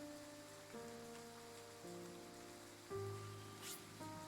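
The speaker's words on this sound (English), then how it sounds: "Night is falling, and the rain is yet to let up." Rain falls steadily in a video game as night comes on, a soft, faint hiss of drops beneath sustained tonal background music.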